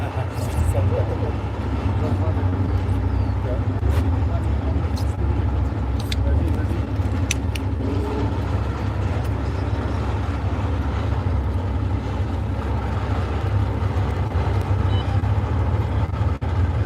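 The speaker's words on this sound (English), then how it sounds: "Tankers, tankers, start your engines." Historic Second World War military tank engines at the Aquino Tank Weekend, a steady heavy low-pitched engine rumble that drones continuously throughout, with a voice speaking over it at times.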